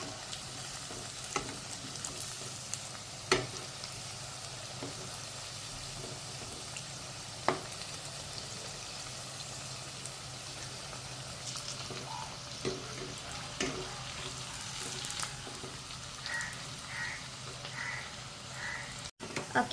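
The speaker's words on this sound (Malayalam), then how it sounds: "ഇനി നമുക്കിത് കുറേശ്ശെ ആയിട്ട് വറുത്ത് കോരാം." Onion vadas (ullivada) deep-fry in oil in a steady, fairly quiet sizzle, with a few sharp pops and clinks scattered through.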